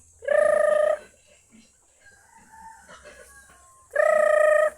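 Chickens cluck and a rooster crows twice, loud and near, outside a house, with quieter bird calls and faint background noise between the crows.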